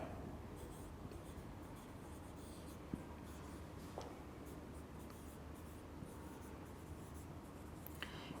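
Chalk or marker writing out the Young's modulus formula during a physics lecture, a faint steady scratching with a few small taps, heard alone over a noisy background.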